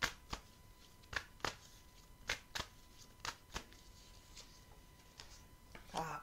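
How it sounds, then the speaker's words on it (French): A tarot card is drawn from the deck during a reading: a series of sharp, close, isolated card snaps and slides spaced a second or so apart, with a brief rustle of handling at the end. "Et je vais prendre une quatrième carte pour la lune."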